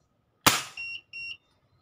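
A single sharp crack of a pellet fired from a Crosman 1377 air pistol pumped ten times, followed by two short high electronic beeps, close and loud against a quiet background.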